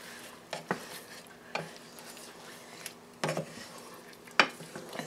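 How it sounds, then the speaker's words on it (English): Pot stickers go into a pan with sauce and are stirred, giving a few sharp utensil clinks and scrapes over a faint, quiet background sizzle. "we're just going to add in our pot stickers."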